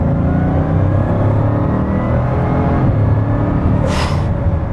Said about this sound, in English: That is one of the craziest automotive acceleration feats I have ever